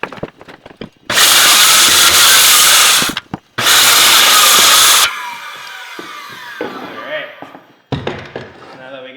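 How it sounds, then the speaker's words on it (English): A power saw makes two loud plunge cuts through plywood floor sheathing, each a harsh roaring burst of a couple of seconds with a brief pause between, followed by quieter knocks, scraping and handling noises. "another plunge cut."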